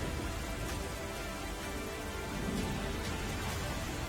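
Heavy rain pouring down in a Gujarat village, a steady, dense hiss of falling water that holds evenly throughout, with no voices.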